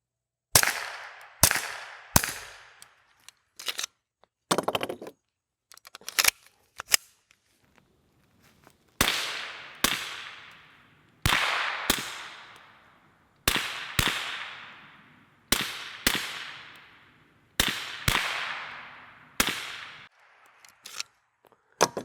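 Pistol firing standard 22 long rifle rounds through an Innovative Arms SlingShot Ti titanium silencer: a long series of sharp, close, muffled pops with short ringing tails, fired singly and in quick pairs and triplets, with no talk.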